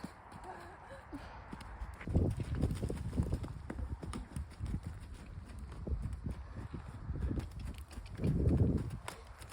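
A horse walks on firm ground with a rider aboard, its hooves clip-clopping in a steady, fairly close rhythm that swells in bursts, with faint talk in the background.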